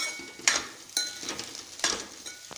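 A spoon scrapes and clinks in a pan while peas and cauliflower fry with turmeric, with several distinct strokes over a soft sizzle.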